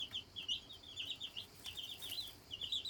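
A hen clucks softly in a series of quick, irregular clucks, fairly close but quiet, with no talking over it.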